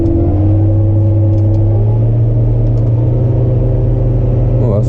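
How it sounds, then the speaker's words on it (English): A farm tractor's engine with PTO-driven hedge cutter and front topper attached runs at a loud, steady rumble with a constant mid-pitched drone, rising slightly near the end as it is revved. "Alright, let's rev him up a bit, shall we?"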